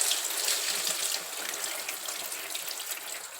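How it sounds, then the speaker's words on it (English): Steady running water poured and swished over black-eyed peas being rinsed in a bowl, a close, continuous splashing wash with no voices. "Just add water 3 or 4 times and wash."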